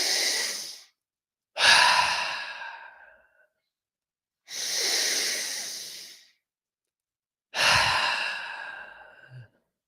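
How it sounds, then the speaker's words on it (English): Four slow, deep breaths during a guided breathwork session, each a loud, rushing inhale or exhale separated by brief silences, close and unaccompanied. "Keep up with that breathing."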